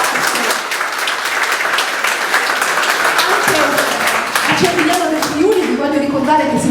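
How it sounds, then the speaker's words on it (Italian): Audience at a community diabetes info-point inauguration in Cervignano del Friuli breaks into brisk, loud applause, then it thins out as voices start talking over the last claps. "Se volete fare un applauso davvero a questo progetto"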